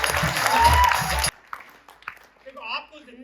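Audience applause at a motivational talk: a dense, loud burst of clapping for just over a second that cuts off abruptly, followed by a quieter voice speaking.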